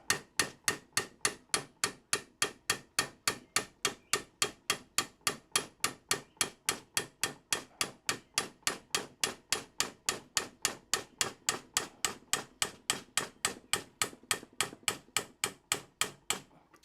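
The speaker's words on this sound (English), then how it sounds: "that pin I should be able to hammer out now" Sharp metallic hammer taps drive out a barrel pin, repeating at a steady quick rhythm, dozens of strikes close by with no voices.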